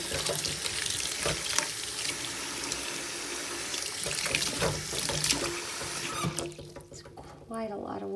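Water poured into a pot while repotting a Euphorbia, a steady splashing trickle close by that carries on for several seconds before thinning out and briefly dropping away near the end.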